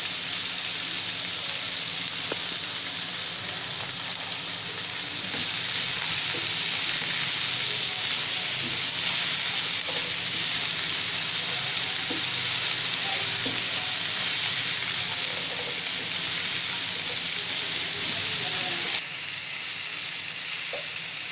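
Carrots, capsicum and other vegetables lightly frying in a pan for chicken pasta give a steady, even sizzle that continues close and unbroken throughout, with faint stirring scrapes and no talk.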